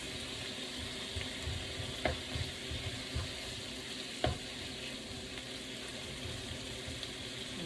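Ground beef sizzles in a pan for pepper steak while a utensil breaks it apart, giving a steady close frying hiss with a few sharp scraping knocks from the spatula.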